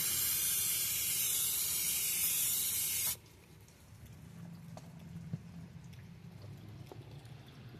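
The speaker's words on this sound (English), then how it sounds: "Clean the pulley off with some brake cleaner." A loud, steady hiss of brake cleaner sprayed onto the water pump pulley of a 2005 Buick Century with a GM 3100 V6, lasting about three seconds, then cutting off to quiet garage background with faint ticks.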